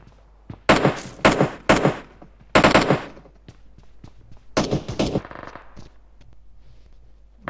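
Bursts of automatic gunfire in the video game PUBG ring out in several loud rapid volleys, followed by scattered lighter shots and clatter.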